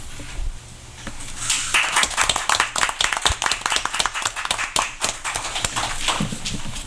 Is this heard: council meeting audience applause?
yes